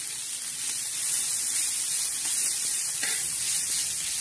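Dried fish (sukat) roasting until crisp in a hot pan gives a steady, bright sizzling hiss that stays close and even throughout, with only a faint stir near the end.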